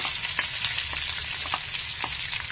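Sliced onion, curry leaves and dried red chillies fry in a pan of hot oil, making a dense, continuous crackling sizzle up close, marked by light scraping strokes and no voices.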